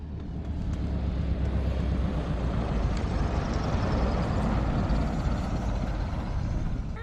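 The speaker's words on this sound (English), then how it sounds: "Another plane coming into land" A small plane engine drones steadily at a low-tide Alaskan beach while it comes in to land, a continuous broadband rumble that holds at an even, fairly loud level throughout.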